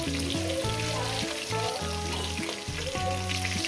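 Pieces of katla fish fry in hot oil with a steady, close crackling sizzle that runs continuously beneath loud background music.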